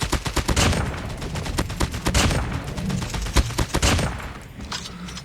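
Man-O-War rifle fire in a shooter game, a fast string of loud sharp shots blending into a heavy rattling fusillade, close and continuous with no talk.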